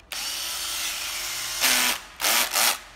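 A Nationan AZT108 cordless drill, Japanese-made, runs steadily at close range for over a second, then gives two or three short, louder revving bursts with pauses between them, with no talking.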